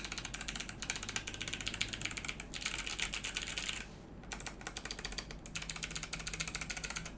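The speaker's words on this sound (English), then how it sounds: "I'm just going to hook up this typing test and I'm going to turn down the music so we can actually hear how this board sounds." Rapid, steady typing on an acrylic-cased KBDFANS Tofu60 mechanical keyboard, a dense run of clacky keystrokes close to the mic, briefly pausing midway before resuming.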